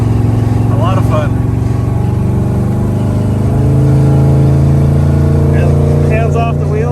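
A 1964 Impala two-door hardtop with a 468 big-block V8 gives a loud, steady engine roar that swells as it accelerates hard, heard from inside the car with faint speech in the background.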